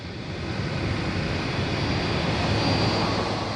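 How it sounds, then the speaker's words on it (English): An Air France Concorde airliner taxiing at Kennedy airport gives off a steady, loud jet engine roar with a constant whine. The sound holds even and unbroken, with no voices over it. "Air France's Paris-bound Concorde departure is already negotiating the web of complex taxiways at Kennedy"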